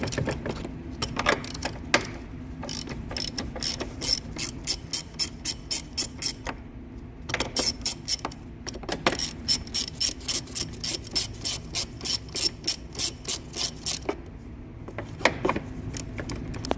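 Ratchet wrench clicking in rapid bursts while removing front strut bolts on a 2017–2019 Chevrolet Volt, with repeated runs of close, loud pawl clicks separated by short pauses.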